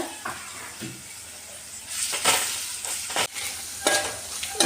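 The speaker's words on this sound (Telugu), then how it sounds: "అల్లం ఎల్లిగడ్డ పచ్చి వాసన వేయదాకా మంచిగా వేయించుకొని" Ginger and garlic fry and get stirred in a pan, a steady sizzle broken by several louder scraping, stirring bursts, close by with no voices.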